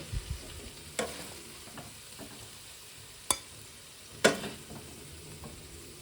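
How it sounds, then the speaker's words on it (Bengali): Spring onion curry with dried shrimp being stirred in a frying pan: a quiet low sizzle with a few distinct spatula knocks and scrapes spaced out over several seconds; no speech. "আমি আরও এটা মিনিট 2 ভালো করে নেড়ে আর নামিয়ে নেব।"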